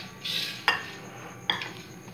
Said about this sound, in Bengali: এবার আমি একটা প্লেট নিলাম, আর একটা ছোট হাঁড়ি নিলাম।